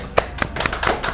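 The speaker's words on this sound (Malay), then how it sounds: "Boleh tak kita bagi tepuk tangan yang gemuruh untuk Ira?" A handful of sharp claps and taps ring out in a studio on a Malaysian cooking show as a guest is welcomed, sounding like sparse hand-clapping rather than full applause, close and fairly loud over about a second.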